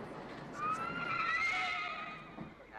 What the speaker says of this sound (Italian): e che è sto cavallo?